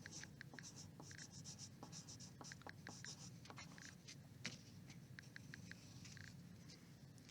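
Pen or pencil scratches across a paper foldable in short, quiet strokes, steady and close against a faint background hiss, with no voices.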